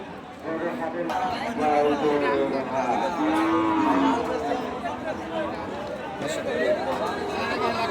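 Cattle and calves at the Monday cattle market in Satra, a Bengal border area, with a low moo and mooing heard among a crowd's steady murmur and nearby people talking.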